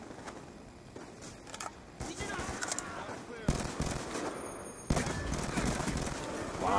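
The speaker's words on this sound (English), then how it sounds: "Wow, I shot that guy a lot of times." Gunfire in a Call of Duty match during a Type 25 camo challenge: bursts of rapid automatic shots and louder cracks come in clusters at close range, with no talking.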